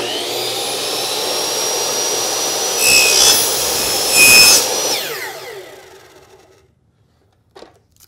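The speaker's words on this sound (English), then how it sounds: "now that we've cut the aluminum holder" A power tool whines loudly while cutting an aluminum LED channel holder, with two brief harsher bursts as the blade bites, then spins down and fades to silence, followed by a single faint click.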